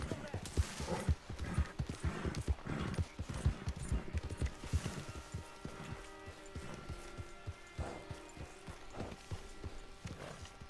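Horse hooves clip-clopping at a walk in Red Dead Redemption 2, a steady uneven beat of close hoof falls heard under someone talking throughout.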